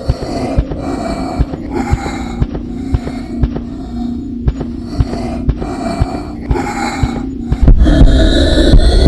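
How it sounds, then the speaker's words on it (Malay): A monster's heavy, rasping breaths in the horror video game Secret of the Cellar repeat in a steady rhythm over a low droning hum, with sharp thumps punctuating the sequence and a louder, denser swell near the end. "Kalau dengar bunyi nafas kuat tu memang dia lah tu."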